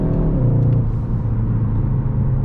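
A Skoda Octavia RS with a 2.0 TSI petrol engine accelerates under throttle, a steady loud drone rising slightly in pitch over a couple of seconds, heard from inside the car.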